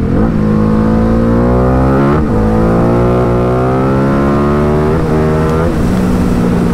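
A Ducati Diavel 1260 motorcycle accelerates hard onto a highway from about 80 km/h. Its loud engine note climbs steadily, dipping briefly at two gear changes before rising again.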